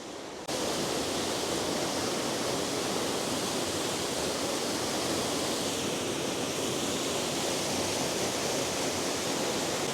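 Scale Force waterfall in the Lake District roars in a dense, unbroken rush of falling water, loud and close, with no other sounds over it.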